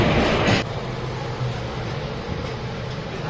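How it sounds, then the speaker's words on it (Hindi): Islampur Hatia Express pulling out of Gomo junction, a steady low rumble of the moving train with a brief louder burst at the start, then an even, continuous roll. "तो अपनी ट्रेन नेताजी सुभाष चंद्र बोस जंक्शन यानी गोमो से डिपार्ट हो चुकी है।"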